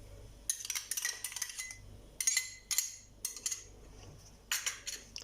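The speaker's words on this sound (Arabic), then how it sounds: "غادي نحرك" A spoon clinks against a bowl while natural yogurt is stirred into chocolate cupcake batter, bursts of bright scraping and tapping in irregular strokes separated by short quiet gaps.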